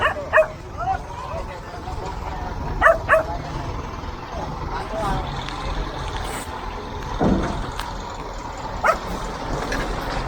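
A dog barks in a few sharp, close bursts near a city canal in a barangay, with rumbling traffic and truck noise running underneath throughout.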